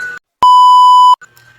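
A single loud electronic beep sounds as a steady tone lasting under a second, with a short pause of silence before it and faint noise after.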